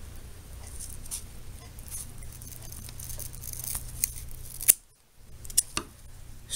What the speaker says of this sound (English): I've also learned to have a good sharp pair of scissors.